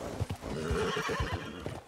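A horse whinnies and snorts over muffled hoofbeats and a busy game-like background in Red Dead Redemption 2, close and fairly loud.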